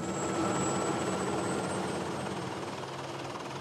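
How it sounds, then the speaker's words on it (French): A helicopter's steady rotor drone and engine whine as it flies over the Truyère river valley in Cantal, constant and fairly loud throughout, with no voices. "À bord de cet hélicoptère, Benoît Dessin vient inspecter le lit de la"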